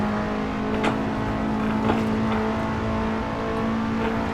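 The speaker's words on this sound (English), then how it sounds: "Run it right out to the rev limiter there, back down to fourth" KTM X-Bow R engine in Assetto Corsa holding a steady high-rpm drone near the rev limiter, loud and continuous with a strong tonal whine and faint bursts of tire and road noise, no talk.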